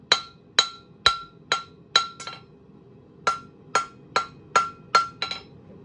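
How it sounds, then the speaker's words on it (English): A hammer strikes hot steel over the edge of an anvil, forging a taper: a near, bright run of ringing metallic blows in steady rhythm, a short pause, then another even series of about six strikes. "over the edge of the anvil."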